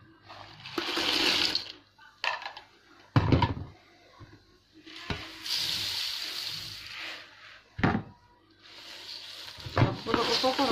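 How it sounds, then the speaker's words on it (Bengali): Hot jaggery syrup is poured over puffed rice, papad and chips in several bursts of splashing, sizzling pours with short pauses between them, close and fairly loud. "এখন একসাথে সবগুলো উপকরণ ঢেলে দিব।"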